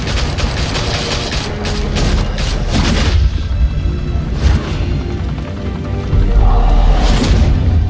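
Gunfire in the video game Batman: The Telltale Series comes as a dense, loud barrage of shots and booms that repeats in bursts against a rumbling game soundtrack.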